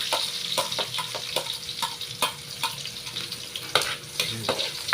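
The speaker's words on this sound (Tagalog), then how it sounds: "gigisa tayo ng ating rekado. Kanahin natin ng iluya. Ilagay natin ng bawang." Garlic and ginger sauté in a hot pan with a continuous soft sizzle. Scattered scraping and clinking from stirring sound close by.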